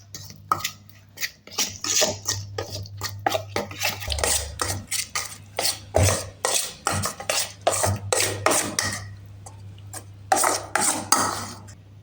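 Metal spoon stirring crushed Oreo biscuits with milk in a bowl, a steady run of close scraping clinks and rubbing strokes in quick irregular rhythm for the whole stretch, with no talking.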